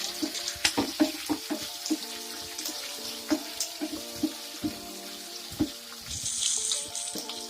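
Green chillies, onion and vegetable pieces fry in a pan for wheat rava upma, with soft crackling, scattered sharp pops and spits at irregular intervals, close and fairly quiet, rising into a brief hiss near the end.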